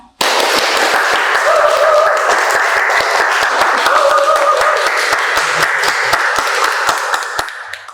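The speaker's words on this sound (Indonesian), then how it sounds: "Silakan beri aplaus" A high school classroom applauding a student group, loud sustained clapping from many hands lasting about seven seconds before tapering off at the end, with no speech over it.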